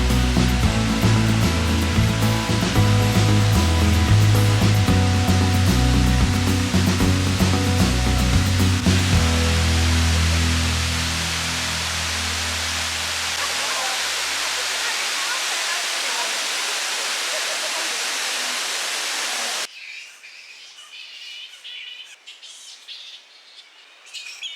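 Wangi Falls waterfall in Australia, a steady broadband rush of falling water that follows a stretch of music, holding at moderate level for several seconds before an abrupt cut to a quieter outdoor scene with faint birds.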